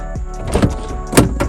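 Door of a 2007 Honda CR-V with a broken handle being unlatched and opened from inside, a couple of sharp mechanical clicks and a clunk, close and fairly loud, no speech.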